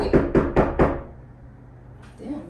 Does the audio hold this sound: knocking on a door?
yes